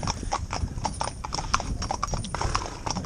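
Horses' hooves clip-clopping as they pull a tandem carriage, a brisk, regular rhythm of sharp hoof strikes on a hard road, close and clear above low rumbling wheel and harness noise.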